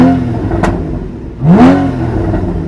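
A Porsche Cayman engine revs in two short bursts, a brief rise followed by a longer swelling rev that sweeps up and falls back, with crackling exhaust pops and a steady idle rumble between them.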